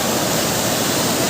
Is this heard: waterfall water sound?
yes